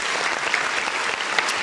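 A dense burst of applause from a crowd, many hands clapping steadily and fairly loudly throughout with no pause.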